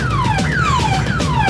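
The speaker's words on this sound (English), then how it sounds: "I hear the sirens." Emergency vehicle sirens wail in repeated descending sweeps, loud and continuous over a low rumble, with no voices.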